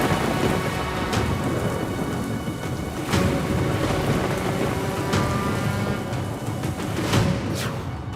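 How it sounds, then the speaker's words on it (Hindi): Heavy monsoon rain pours down steadily in Jharkhand, a dense continuous roar with occasional louder gusts and rumbles. "झारखंड में बारिश भयंकर"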